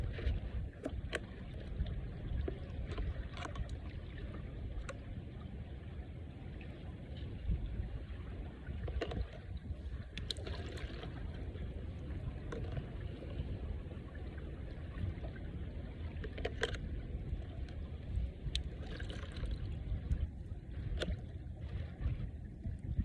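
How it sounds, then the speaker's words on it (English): Strong outdoor wind buffeting the microphone, a continuous low rumble with gusty surges and occasional faint clicks throughout, with no talking. "bear with me that the wind is pretty bad"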